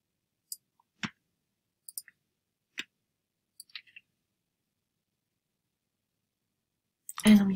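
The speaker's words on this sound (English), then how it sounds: "I'm using a mouse" A computer mouse being clicked while drawing in Adobe Animate, giving a handful of sparse, sharp, close clicks spaced across a quiet background, with a brief burst of speech right at the end.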